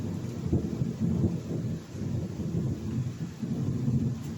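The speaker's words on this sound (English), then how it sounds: "Nice 1 minute and dumping down rain the next." Heavy summer thunderstorm rain pours down in Florida, a dense steady roar with low rumbling thunder running throughout the whole stretch.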